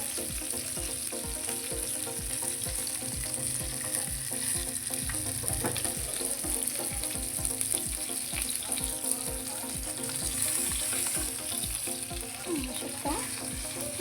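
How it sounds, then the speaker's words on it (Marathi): Rava-coated bangda mackerel fries in a pan after being flipped, a continuous soft, even sizzle with faint crackles, fairly quiet and unbroken. "तर आता हे दुसऱ्या बाजूने हे आपल्याला व्यवस्थित फ्राय करून घ्यायचं आहे"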